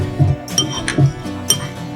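A spoon clinks against a bowl while stirring custard powder, giving three or four sharp, bright taps spaced unevenly over a couple of seconds, close and clear with no talk.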